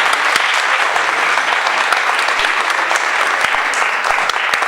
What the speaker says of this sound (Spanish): Jean-Christophe Bergeron, para quien también pido un fuerte aplauso, por favor.